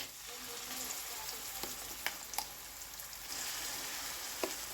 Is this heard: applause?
no